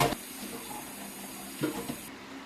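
Tap water runs over an eggplant being rinsed at a kitchen sink, a steady close hiss with a few splashy bumps that cuts off near the end.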